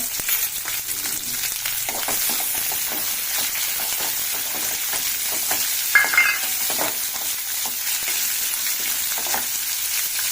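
A large chopped onion fries in a pan with a steady, close sizzle and crackle, plus light scraping as it is stirred now and then.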